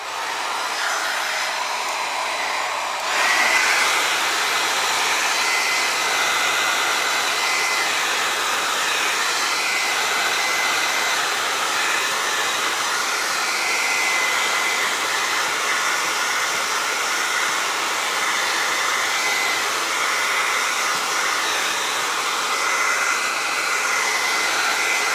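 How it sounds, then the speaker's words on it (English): A hair dryer drying resin art roars steadily and loudly for the whole stretch, a constant whooshing blast with no pauses and no talking. "I'm gonna hit this with the blow dryer"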